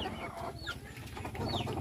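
Native Bisaya chickens cluck and chatter in a brief close burst, with several overlapping bird calls over a low rumbling background.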